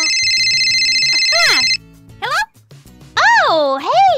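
A bright electronic phone ringtone from a Minecraft roleplay game plays loudly and steadily at the start. It stops abruptly, then sliding synthetic tones and voices follow over quiet background music.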